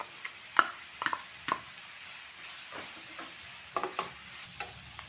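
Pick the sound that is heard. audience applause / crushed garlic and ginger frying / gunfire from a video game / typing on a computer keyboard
crushed garlic and ginger frying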